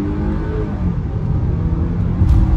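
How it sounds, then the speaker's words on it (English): A 2022 Hyundai Tucson N-Line SUV pulls away from a stop at about half throttle, a steady low engine rumble and whir from inside the cabin that swells slightly toward the end. "So we'll try to get a good launch, about half throttle."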